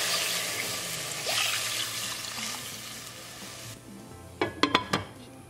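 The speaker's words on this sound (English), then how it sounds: "In the same pot, bring the gas to high and we'll add milk." Milk poured into a hot pot over a high gas flame for makhana kheer, a steady hissing pour that fades out, then a few sharp clinks of metal at the end.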